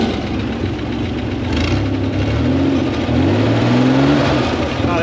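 A 1960 Chevrolet Corvair, revived after sitting in a Kansas field since 1991, runs with a steady rough engine note that swells slightly as gas is given, close and loud, without speech.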